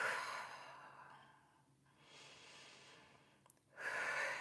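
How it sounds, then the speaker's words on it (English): Slow, deep breaths during a pilates core exercise, a long airy exhale trailing off, a pause, then another breath and a sharper inhale, close and soft with no talking. "Really focusing on that inhale and exhale."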